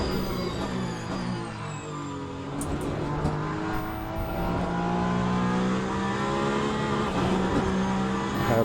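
Race car engine in the Le Mans Ultimate sim, revving up and down through gear changes with rising and falling harmonic whine, loud and continuous, with a brief tyre squeal and no talk.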